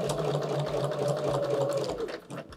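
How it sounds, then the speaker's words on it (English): A sewing machine fitted with a walking foot stitches quilt fabric in a fast, steady mechanical whir with a rhythmic needle pulse, close and continuous, easing off near the end. "I let the sewing machine pull the fabric through"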